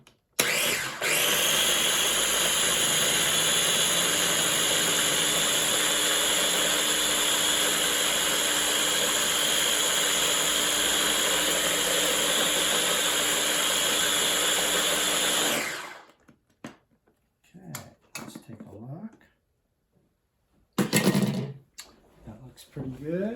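A small food processor whirs steadily and loudly for about fifteen seconds while blending ingredients for Vietnamese rice rolls, then cuts off abruptly, followed by quieter clinks and brief talk.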